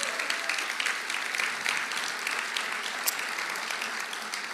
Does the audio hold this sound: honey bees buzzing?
no